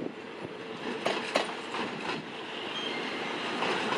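Train 112 from Den Chai to Bangkok rolls into a station platform, a loud continuous rumble of wheels with rhythmic clacks over the rail joints and faint squeals, with no voices.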